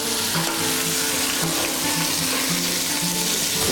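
Poultry browns gently in oil in a small pot, giving a steady, continuous sizzle with no pauses, fairly loud and close throughout.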